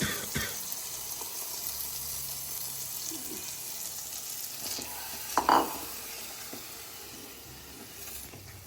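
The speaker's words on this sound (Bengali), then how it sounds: "এই সময় আমি পালং শাক বাটাটা দিয়ে দেবো" Spinach paste goes into a pan of frying masala and is stirred, a soft continuous sizzle with a brief louder splash and scrape midway, faint and alone.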